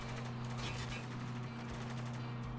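Gunfire in the video game Spec Ops: The Line comes as rapid, repeated bursts of automatic shots, fairly quiet and dense, over a steady low tonal hum.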